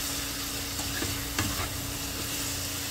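Chopped bottle gourd seasoned with pepper and salt gets stirred in a pot, a steady scraping and sizzling texture with a few louder clanks of the spoon near the middle, close and continuous with no talking.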